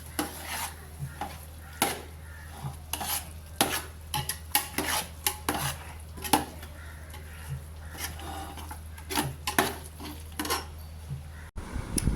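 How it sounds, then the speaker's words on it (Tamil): A spoon scrapes and knocks against a pot while cooked rice is stirred into pepper paya pulav, a rhythmic series of metallic clinks and soft scraping strokes over a steady low stove hum. "இது அப்படியே கலந்து விட்டுக்கலாங்க."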